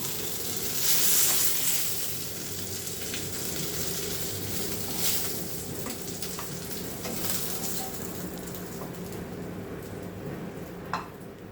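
Parshe fish fry in oil in a pan, giving a continuous close sizzle and crackle with occasional sharper pops and faint clinks of a utensil.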